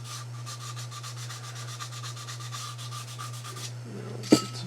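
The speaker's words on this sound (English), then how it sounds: "I like the wet sanding part because I can use a higher grit" Sandpaper rubs back and forth in quick, even strokes over a model part, wet sanded with Windex, a close rhythmic scratching that stops near the end, followed by a single sharp knock, over a steady low hum.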